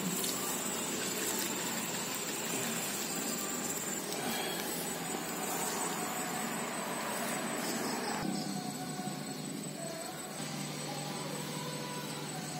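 Water gushes steadily and continuously onto goat manure compost for well over ten seconds, a close, even pouring rush with no talk over it.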